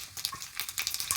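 Mustard and cumin seeds crackle and sizzle in hot oil for a chutney tempering, a close, steady spatter of bright hisses and small pops with no voices.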